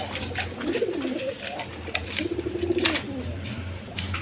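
Pigeons at a pigeon farm coo in two soft, rolling calls, one near the start and a longer one mid-way, over a low hum of background noise.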